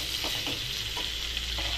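Cauliflower and potato pieces frying in a pan, a dense continuous sizzle with a few soft stirring scrapes over a short stretch.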